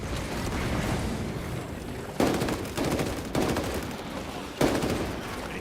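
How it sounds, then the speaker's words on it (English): A shrapnel grenade goes off in a shooter video game, its burst landing amid constant loud gunfire, with sharp broadband blasts repeating at roughly even intervals over a dense, steady din of combat. "Deploying shrapnel grenade."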